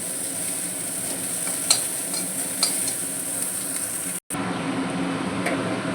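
Leftover rice fries in a wok with a steady, loud sizzle and a couple of light stirring scrapes, cut by a brief gap near the end.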